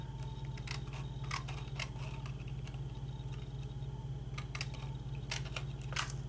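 A piece of window sheet, a clear plastic film, being cut with scissors while making a shaker card: a short series of crisp snips, close and fairly quiet, over a low steady hum, with no talking.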